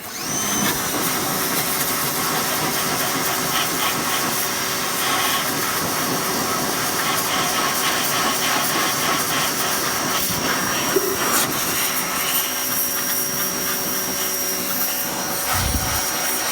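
A pressure washer blasts dirt and oil off a 1992 Chevrolet S10 4.3L engine, a loud, continuous, broadband spray roar with a steady motor drone that holds unbroken for the whole stretch.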